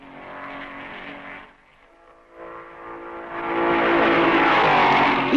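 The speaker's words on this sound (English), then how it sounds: "2 laps behind the leaders come the Maseratis of Padisa 8th and Rosier 9th." 1955 Maserati Formula One race cars during the Belgian Grand Prix at Spa: one engine drones and fades briefly to a lull, then another roars in louder and rising in pitch as it approaches close.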